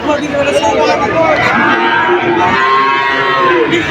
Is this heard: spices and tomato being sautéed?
no